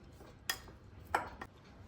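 Paneer being mixed with salt, chilli and ginger garlic paste in a bowl, giving a few soft clinks of a utensil against the dish, quiet and sparse.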